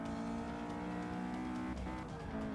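Race car engine droning steadily at high revs inside the cockpit in Forza Motorsport 6, a continuous loud tone with a brief shift in pitch near the end, no talking.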